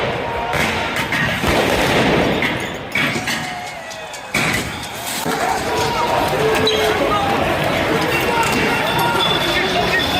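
Loud, chaotic fireworks booms and thuds burst repeatedly amid a noisy crowd at street protests in Paris, with shouting voices mixed through the rumbling din.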